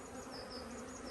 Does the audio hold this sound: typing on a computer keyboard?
no